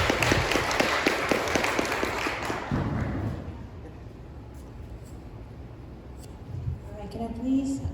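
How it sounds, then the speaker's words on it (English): Applause from a conference audience at World Information Architecture Day in Toronto, a burst of crowd clapping for about two and a half seconds that fades into room noise, followed by talking near the end. "One more round of applause for Trevor"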